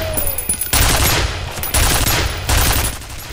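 Enemy soldiers firing at the player in the video game FEAR, loud rattling bursts of automatic fire in three waves separated by brief lulls, close and punchy.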